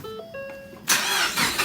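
A Ford Focus ST under troubleshooting, its starter whirring briefly before the engine catches with a loud roar that settles into a rough, close idle.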